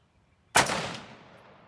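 A single loud, close gunshot from a Ruger SFAR semi-automatic rifle in 6.5 Creedmoor cracks sharply after a moment of quiet, then rolls away in a fading echo.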